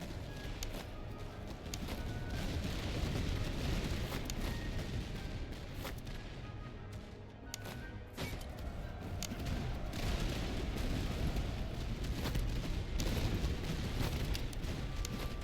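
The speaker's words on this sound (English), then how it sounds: "Looks like my artillery is not too sure what it needs to shoot at." Artillery fire in the video game Master of Command, a dense continuous rumble of distant booms and crackling battle noise over roughly fifteen seconds, steady and fairly loud throughout.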